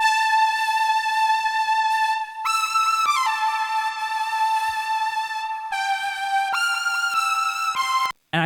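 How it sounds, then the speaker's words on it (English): A flute-like synth layered with two saw synths in Serum plays a sustained melodic line, stepping up and gliding between held notes over several phrases, loud and alone before a sudden stop. "it sounds like there's some type of flute sound mixed with a couple saw synths"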